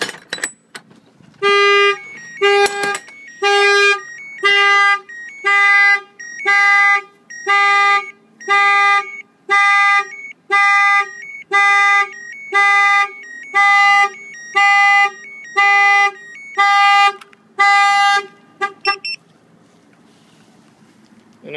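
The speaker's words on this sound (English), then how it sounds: "it's going to fire off the alarm." A Carlink Excalibur truck alarm goes off loudly up close, blaring a rapid series of about fifteen evenly spaced electronic tone bursts before it cuts out, leaving a quieter tail.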